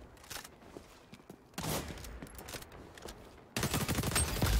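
Assault rifle fire in the online shooter XDefiant, with bursts of rapid sharp shots that grow louder and denser toward the end against a busy game background.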